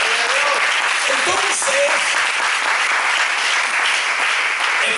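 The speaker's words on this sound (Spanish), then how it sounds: "den un aplauso al Señor" A church congregation breaks into sustained applause, a dense, steady wash of clapping from many hands filling the room, with a preacher's voice and scattered cheers rising briefly over it.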